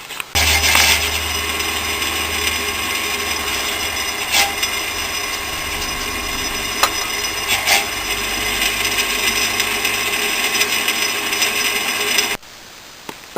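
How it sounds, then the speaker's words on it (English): A drill bores through a metal workpiece in a workshop, a steady grinding whir with occasional sharp squeaks and scrapes that runs for about twelve seconds before stopping abruptly. "So I'll drill the rest."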